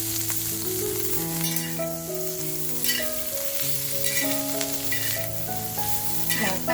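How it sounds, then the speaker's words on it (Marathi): Dried shrimp (sode) are frying lightly in a pan over a low flame with a little oil. A soft, continuous sizzle crackles throughout, quiet and close. "आपले सोडे जोपर्यंत फ्राय होत आहेत ना, म्हणजे हलकेसे फ्राय होत आहेत"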